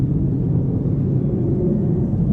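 American military aircraft passing overhead on a show-of-force flight, a loud steady low rumble that fills the whole stretch without letup, heard outdoors beside a garden wildlife pond with no talking.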